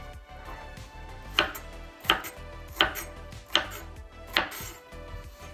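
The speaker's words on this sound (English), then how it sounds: "We're just gonna chop it up like that." A knife chops a red onion on a cutting board, with five evenly spaced, firm, close thuds about a second apart over low kitchen background noise.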